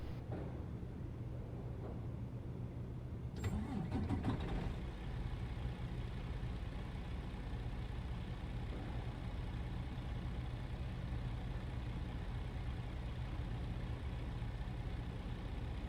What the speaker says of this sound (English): let's get in and start our engine, get going here.